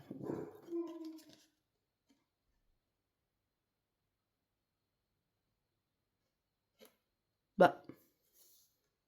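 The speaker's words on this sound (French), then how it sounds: "C'est mon chien qui a dû faire un mauvais rêve." A dog whimpering and yelping in its sleep during a bad dream: a soft whining stretch, a long silence, then one sharp, louder yelp and a faint trailing whimper.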